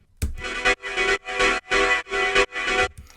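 Six pulsing, fully sidechained synth stab chords pump rhythmically in a hardgroove techno track, each swelling up then ducking sharply before the next, with brief dips between them.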